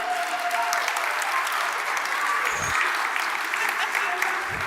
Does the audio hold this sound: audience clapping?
yes